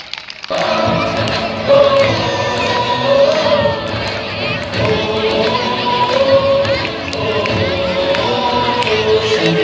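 A crowd at a school Republic Day celebration cheers and claps for young class two children, loud and busy, with children's shouts and voices mixed in over music.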